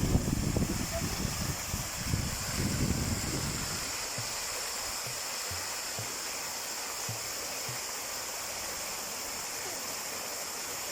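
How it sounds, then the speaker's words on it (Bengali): A waterfall and flowing water roar in a steady broadband wash throughout, with louder low rumbling and scattered voices over the first few seconds during a summer vacation outing. "ঝর্ণার কাছে আয়ো"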